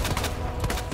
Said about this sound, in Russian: Просто маленькой пукалкой стреляю и все.